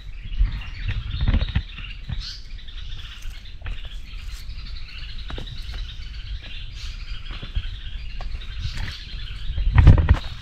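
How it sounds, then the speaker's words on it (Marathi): Birds call and chirp all around in the forest on a Sahyadri hill fort, Ajoba hill, with scattered faint tweets and rustles over a quiet, still background and a louder bump near the end. "बाजूला पक्ष्यांचा बघा कसा आवाज येतो."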